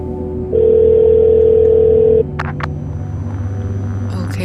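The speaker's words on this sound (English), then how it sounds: "Let's pick you up and dial." A telephone in the video game Shadows of Doubt gives a steady dial tone for nearly two seconds, then a couple of short dialing beeps follow over a low background hum.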